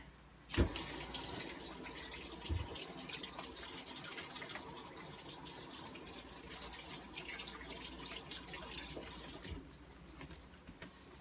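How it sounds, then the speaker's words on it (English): Kitchen tap running steadily into a sink while hands are washed, a continuous close splashing rush with a couple of knocks at the start, no voices. "And I'm going to wash my hands again."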